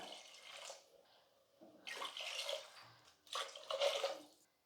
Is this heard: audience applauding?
no